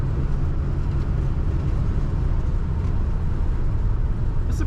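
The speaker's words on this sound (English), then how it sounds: "Blower motor does work" The blower motor of a 1978 Chrysler Cordoba runs with a steady, even whoosh and hum from inside the cabin, continuous and unchanging throughout.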